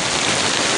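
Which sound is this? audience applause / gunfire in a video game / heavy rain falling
heavy rain falling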